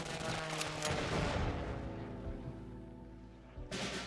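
Artillery fire from the Type 4 Ho-Ro card in the KARDS video game: a dense, rumbling barrage of booming blasts rolls on for several seconds, fades slightly, then another sharp burst hits at the end.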